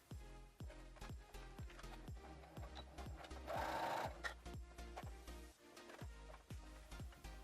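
A sewing machine stitches a straight seam on a pair of shorts, its needle thumping in a quick, even rhythm, close and faint, with a brief louder whir near the middle.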